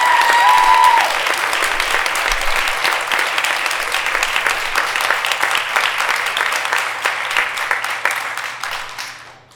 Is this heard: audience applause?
yes